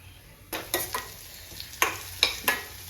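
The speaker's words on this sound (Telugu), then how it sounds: "అల్లం తక్కువ వేసుకోవాలండి సిమ్లోనే వేగాలండి" Ginger frying in a pan over a low flame, with soft stirring scrapes and a few brief sizzling bursts in a quiet, close kitchen and no talking.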